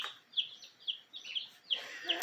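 Soft, scattered chicken clucks, about five short calls spaced across a couple of seconds, faint and somewhat distant.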